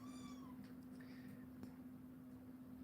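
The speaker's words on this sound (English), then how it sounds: "they are in full-on crazy kitten mode right now. Running around." A kitten gives one clear, descending meow close by, followed by faint scuffling and small sounds of kittens playing, over a steady low hum.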